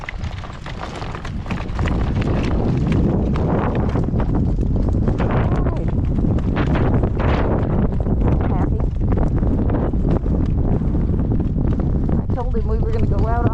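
Strong gale-force wind buffets the microphone in a constant, loud, rumbling roar that swells after the first couple of seconds and stays heavy and close throughout.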